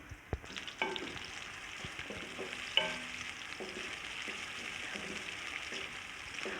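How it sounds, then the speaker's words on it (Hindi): Onions frying in ghee in a pan until golden, for chana biryani; a steady close sizzle runs throughout, with occasional stirring clatter and utensil knocks and no talking. "प्याज डाल दूँगी और प्याज को गोल्डन सा फ्राई मैं कर लूँगी।"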